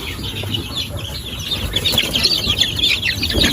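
Darag native chickens in a ranging space cluck and chatter continuously, several birds close by with overlapping calls over a low background rumble.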